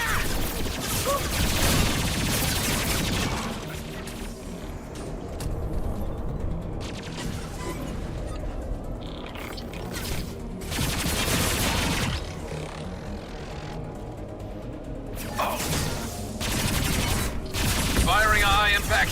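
Gunfire in the Mass Effect 2 video game, with bursts of rapid shots and explosive blasts coming and going amid dense game noise, loud and continuous throughout.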